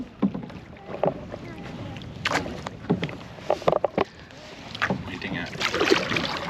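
Paddles dip and stroke through the water as a family canoe glides across a lake at Umbagog State Park, with irregular splashes and knocks against the hull under soft wind and nearby voices talking.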